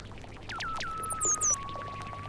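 Water sounds within a played electronic music recording, with bright pouring and dripping tones sweeping downward over a steady low hum, a few quick splashy accents near the middle.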